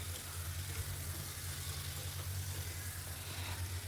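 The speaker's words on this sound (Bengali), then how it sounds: "আবারও কিছুক্ষণ ভেজে নিলাম" Okra and potato fry under a lid in a covered pan, giving a soft, steady sizzle over a low hum, faint and continuous with no talking.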